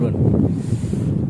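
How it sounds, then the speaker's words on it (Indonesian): Strong wind storm on Mount Lawu near the summit, buffeting the microphone with a heavy, continuous low roar that barely eases for the whole moment. "Enggak hujan sih, cuman kayak badai angin."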